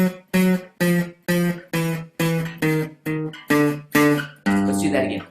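Electric or acoustic guitar plays a descending chromatic run for a guitar lesson, each note struck twice in an even rhythm, about ten bright plucked attacks with ringing harmonics, the last settling into a seventh chord.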